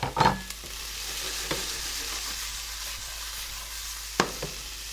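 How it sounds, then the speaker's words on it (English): Onions and yellow peppers for chili sizzle steadily in a pan, with a few loud scrapes and clunks of stirring that stand out close over the constant frying hiss. "I'm going to cook those onions down a little bit. We're going to add the yellow peppers now."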